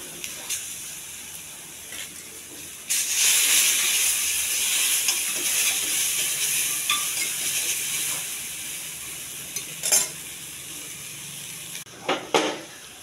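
Mustard seeds, chopped onion and ginger garlic paste hit hot oil for a mushroom curry, making a broad steady sizzle that swells loudly a few seconds in and carries on, broken by a few sharp crackles and scrapes near the end.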